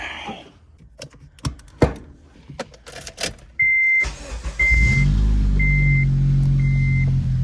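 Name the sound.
Honda Civic Si K20z3 driving, engine drone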